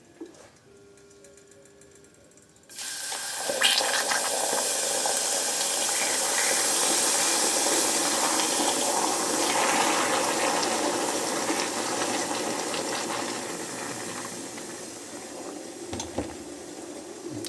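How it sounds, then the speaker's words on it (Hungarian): Water poured into hot dissolved caramel for a homemade lavender ginger syrup, a quiet start that suddenly bursts into a loud, sustained sizzling hiss and bubbling, slowly easing off toward the end. "ebbe a feloldott karamellbe nagyon-nagyon óvatosan, magunktól távol bele kell tenni egy kis vizet"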